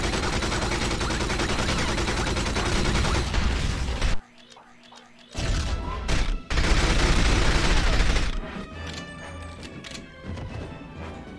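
Game explosions and gunfire from the final level of the video game 007 From Russia With Love, loud dense blasts and crashes filling the mix, a brief lull, then more heavy bursts before fading into quieter game sounds.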